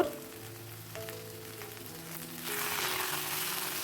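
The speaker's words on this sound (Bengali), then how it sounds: "রসুন বাটা দেওয়ার পর আবারও নাড়াচাড়া করে নিতে হবে" Garlic paste fries in a pan for dhaniya chicken, giving a close, crackling sizzle that grows louder and hissier partway through as the paste is stirred, with no talking.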